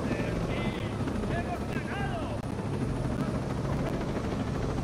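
Steady, loud rotor drone from a helicopter in the video game Ghost Recon Breakpoint, continuous throughout with faint background game chatter over the top.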